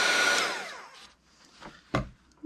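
A hair dryer blowing on a watercolor painting, a loud airy whoosh that runs for under a second and then cuts off, followed by a few faint scattered knocks and rustles.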